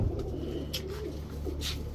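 A brief stretch of giribaz high-flyer pigeons cooing nearby, low rolling calls with a couple of soft breathy bursts and no talk.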